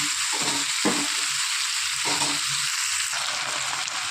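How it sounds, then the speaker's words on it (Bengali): Taro stems and shrimp fry with turmeric and salt in a pan, giving a steady loud sizzle with a few short stirring scrapes mixed in, close and without talk. "ভালো করে হালকা করে একটু ভেজে নেব"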